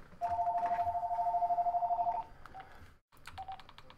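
A phone rings nearby with a steady electronic tone for about two seconds and then cuts off, followed by a few shorter, fainter beeps.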